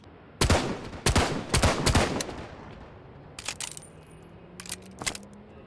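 Weapon fire in Half-Life 2 RP, heard as several sharp, loud close shots in quick bursts, then quieter mechanical clicks and a couple of lighter reports.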